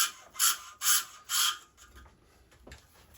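Three close ratcheting bursts come from a string being tensioned on a Forza Precision 10000 M badminton racquet, evenly spaced at first and followed by quieter clicks and light handling sounds.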